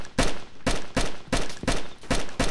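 Gunshots in the survival game DayZ: six loud, evenly spaced single shots fired about every half second, each with a short decaying tail.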